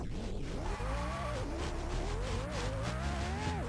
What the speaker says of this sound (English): Gets back on the circuit, spins the car around.